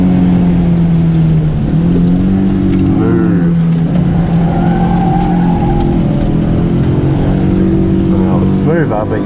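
A Toyota Corolla AE71 with a stock 4AC engine drones loudly and continuously during a drifting run, its revs rising and falling with gear changes, while a voice talks over it.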